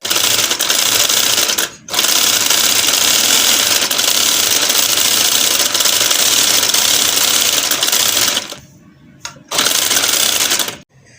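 A home sewing machine stitches a new suit garment in a steady, loud whirring run, pausing briefly near two seconds and again near the end before starting up once more.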